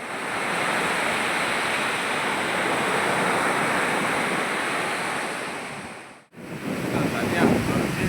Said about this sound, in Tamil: சரியான அலை, வேற மாதிரி இருக்கு. பாருங்க அலை